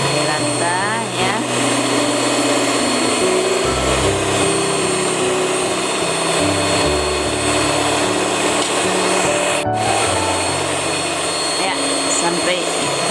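An electric mixer whisks egg yolks, added one at a time, into lapis legit batter. The motor drone is loud and steady, shifting pitch slightly as the beaters work, with some talking over it.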